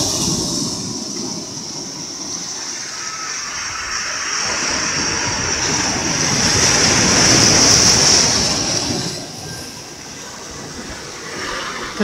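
Sea waves wash onto the shore at a beach in the late afternoon, a steady broadband rush that swells louder toward the middle and then recedes, heard alone without voices.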